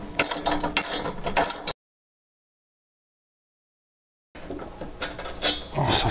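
A socket wrench ratchets a shear bolt on a YT624EJ snowblower auger, giving dense, close clicking bursts before and after a stretch of silence.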